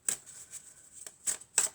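Oracle cards handled and shuffled at close range, a few soft papery riffles and slides in short bursts separated by pauses, with no voices.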